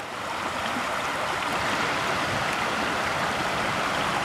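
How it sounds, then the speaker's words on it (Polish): The Soła river in the Beskids runs high after the February thaw, a steady, loud, close rush of flowing water that holds constant throughout with no voices. "rzućmy też okiem na nurty Soły, która toczy swoje wody po lutowych roztopach w Beskidach"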